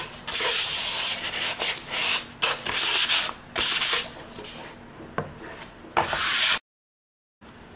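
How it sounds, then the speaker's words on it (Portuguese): Sandpaper rubbed briskly over a party serving tray being prepared for painting, a steady run of close, scratchy strokes with brief pauses, stopping abruptly near the end; no one speaks. "Pronto, depois que lixar,"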